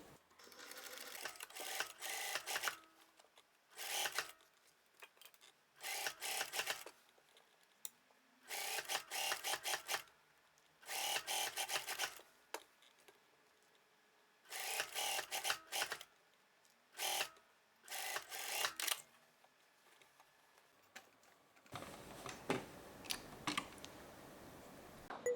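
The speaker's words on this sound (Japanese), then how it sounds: "見返し端にステッチをかけます。" A home sewing machine topstitching along the facing edge of an A-line dress with a front tuck opening: repeated bursts of fast, steady mechanical stitching separated by short pauses, ending with a different softer rustling mechanical sound.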